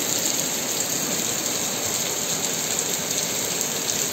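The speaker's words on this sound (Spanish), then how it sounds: "prácticamente en un minuto seguramente esta lluvia se va." Heavy spring rain pours down steadily in Madrid, a dense, continuous hiss of water striking surfaces that stays loud and even throughout with no voices.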